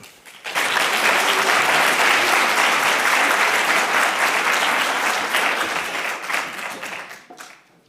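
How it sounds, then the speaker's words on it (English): A large audience breaks into loud, sustained applause for an architect taking the stage at a conference, starting suddenly, holding steady, then thinning out toward the end. "Big applause, please, for Mariam Issoufou."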